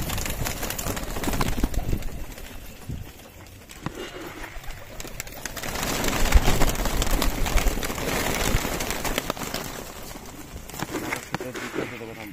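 Desi Giribaz pigeons coo softly in a loft, low murmuring calls mixed with rustling and shuffling, swelling and fading in waves through the background.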